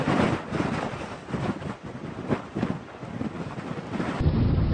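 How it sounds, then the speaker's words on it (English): Strong gusting wind during a dust storm buffets the microphone in a loud, continuous roar with surging rumbles, the blast steady and close throughout. "Wind speeds have been increasing"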